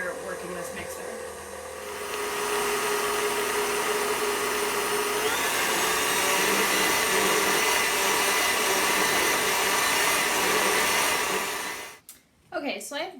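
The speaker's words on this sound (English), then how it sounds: "Keep an eye on these eggs, the sabayon, as you're working this mixer." Electric hand mixer whisking eggs and sugar for a chocolate mousse sabayon, a steady close whirring drone that holds for about ten seconds before cutting off near the end.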